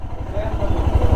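A Royal Enfield motorcycle on a road trip from Delhi toward Narkanda, its engine rumbling steadily and growing louder near the end, with someone talking over it throughout.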